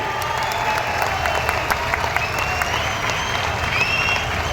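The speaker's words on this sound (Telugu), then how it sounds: "నరేంద్ర మోడీ గారికి గట్టిగా చప్పట్లు కొట్టి స్వాగతం పలకండి" A large crowd at a public rally claps loudly to welcome Narendra Modi, a dense, continuous wash of applause with scattered cheers and shrill whistles cutting through the noise.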